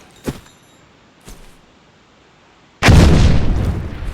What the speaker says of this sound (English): I'll just show you what the grenades sound like.